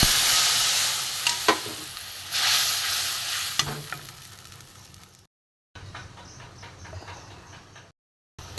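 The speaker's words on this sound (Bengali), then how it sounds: "এখানে সর্ষে বাটা ঝোলটা ফুটে উঠেছে।" Mustard-paste gravy for parshe fish curry bubbling and sizzling in a pan, a close crackling bed with a few scraping stirs early on, then quieter simmering broken by short silent gaps.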